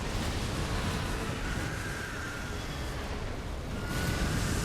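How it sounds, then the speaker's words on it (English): A big explosion in the video game Elden Ring Nightreign, a loud sustained roaring rumble filling the whole clip, swelling again toward the end. "Big explosion."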